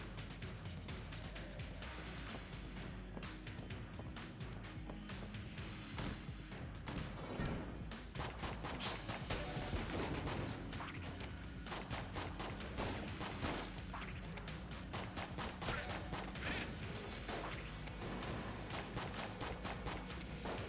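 Rapid, steady gunfire from the infinite-ammo base weapon in the Enter the Gungeon video game, a dense run of small repeated shots lasting throughout, layered over game music and effects.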